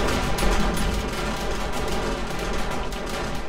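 Continuous rapid gunfire fills a video game scene, a dense steady rattle of shots with no breaks and a constant rumbling layer beneath. No one speaks.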